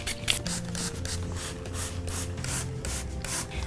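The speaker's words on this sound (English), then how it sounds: "We're just going to spray," Rubbing alcohol spritzed in repeated bursts onto white shoes coloured with Sharpie in a galaxy pattern, giving a rapid series of short hissing sprays with faint mechanical trigger clicks, close and steady.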